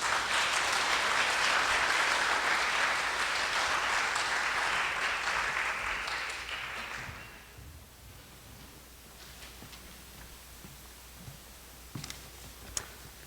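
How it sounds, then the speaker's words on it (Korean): Dense audience applause welcomes a speaker at an art college international symposium, loud and sustained for about seven seconds before fading out into a quiet room with a few faint scattered taps and ticks. "박수로 모시도록 하겠습니다"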